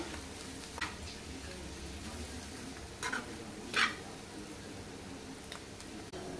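Boti fry with chili and salt is stirred in a pan, soft frying sizzle running throughout with a few scraping stirs of the spoon, fairly quiet and with no voices.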